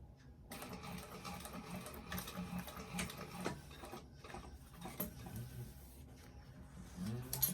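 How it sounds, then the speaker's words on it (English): A sewing machine back stitching a vinyl strap runs in a continuous fast mechanical whir with rapid needle ticking, close by and fairly quiet, with a few small clicks and no talking. "Make sure you back stitch. Make sure it's nice and straight."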